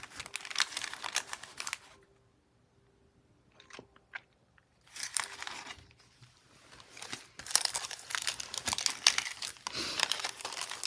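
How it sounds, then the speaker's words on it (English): Paper being rolled up and handled for layered tag crafting, close bursts of crinkling and rustling broken by quiet pauses with a few small taps and clicks. "I'm rolling the paper up onto the image and cutting it and then laying it down."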